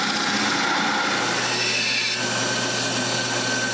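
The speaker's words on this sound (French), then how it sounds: "Je les coupe donc avec une scie cloche." A hole saw bores through wooden spacers for workshop handles, giving a loud, steady, unbroken grinding whir of teeth biting into wood for the whole stretch, with no talking.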